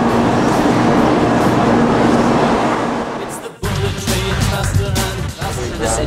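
Rumble of a passenger train running from Tokyo to Osaka in Japan, a steady broadband roar close around the listener that abruptly shifts to a rougher, clattering tone partway through, with faint voices mixed in.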